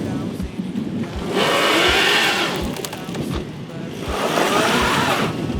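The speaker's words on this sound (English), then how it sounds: "This engine keeps stalling" A car engine that keeps stalling revs up in two bursts, dropping back to a rough idle between them, with a faint rhythmic knocking underneath.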